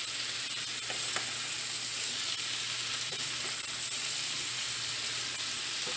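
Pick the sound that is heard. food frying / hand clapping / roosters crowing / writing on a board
food frying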